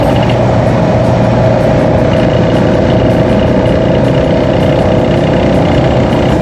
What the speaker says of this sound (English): Something tapped the inside of my left leg and this horrible rattle started immediately.